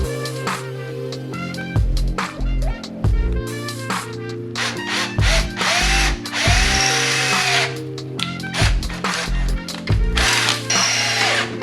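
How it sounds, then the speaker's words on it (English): A power drill whines and bites into the metal of a vehicle in repeated loud bursts while mounting light bars, its pitch rising and dropping as the trigger is squeezed and released. "drill a hole where that Gore-Tex spot was"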